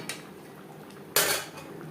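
Paneer being stirred into a vegetarian cauliflower gravy in a cooking pan gives a faint scrape at the start, then a sharp metallic clatter of utensil against pan lasting about a third of a second, with no talking.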